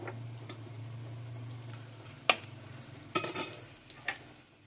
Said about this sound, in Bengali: জিরে আর শুকনো লঙ্কা ফোড়ন দিয়ে দিলাম